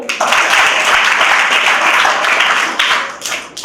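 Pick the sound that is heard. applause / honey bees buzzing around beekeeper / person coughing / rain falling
applause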